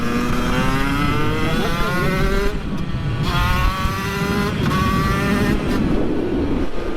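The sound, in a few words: dirt bike engine shifting gears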